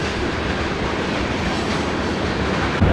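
A train rumbles past in the background during an outdoor golf match, a steady, broad rolling noise holding constant for the whole stretch with no talk over it.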